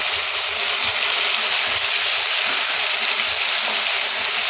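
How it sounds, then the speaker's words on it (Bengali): Chicken sautéing with spices in a pan makes a loud, continuous close-up sizzle and hiss, steady throughout with no talk. "দুই মিনিট এটাকে কষাবো, এই মশলাগুলোর সাথে কষাবো"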